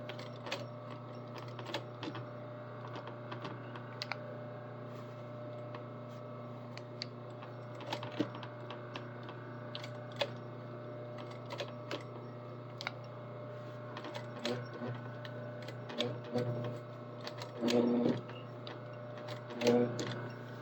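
A sewing machine stitches back and forth across a zipper fly on a garment, a steady mechanical hum with rapid ticking needle strikes running throughout, with faint handling noises near the end.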